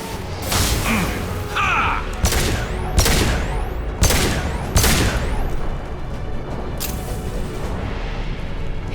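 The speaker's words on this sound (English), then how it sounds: "Watch out, flashbangs!" Flashbang grenades go off in a firefight in Mass Effect 2, a run of loud broadband blasts about every second over a constant rumble of combat noise, with no talk.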